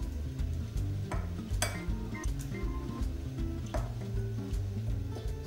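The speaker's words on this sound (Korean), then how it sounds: "숟가락이나 젓가락으로 저어 주시면서 반죽을 해주시면 됩니다" Dumpling dough being stirred in a bowl with a spoon or chopsticks while water is added bit by bit, giving quiet, repeated clinks and scrapes at a steady rhythm, close and faint.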